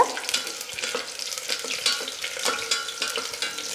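Cashews frying in oil in a pan while being stirred until golden: a steady close sizzle with repeated scraping and clinking of a spoon against the pan.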